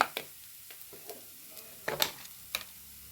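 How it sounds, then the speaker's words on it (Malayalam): Crushed ginger dropped into a hot frying pan and stirred, giving quiet sizzling with a few sharp scraping clicks from the spoon against the pan. "ഇതിലേക്ക് ഞാൻ കുറച്ച് ഇഞ്ചി ഇട്ട് കൊടുക്കുന്നുണ്ട് ഇഞ്ചിൻ്റെ ഇഞ്ചി ചതച്ചതാണ്"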